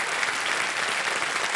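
Continuous, even applause from a game-show studio audience, many hands clapping at once at a strong, steady level with no speech on top.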